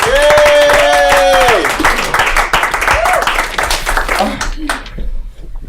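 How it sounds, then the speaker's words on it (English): A comedy club crowd applauding at the end of a comedian's set, with sustained clapping from many hands and bright whoops and voices cheering over it before the noise tapers off. "Bailey Erickson, everybody, give her a round of applause"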